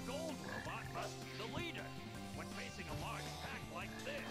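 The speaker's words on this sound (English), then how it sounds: "There are too many frogs" Frogs croak repeatedly in Sonic Heroes, a dense chorus of calls layered over steady game music with a voice talking now and then.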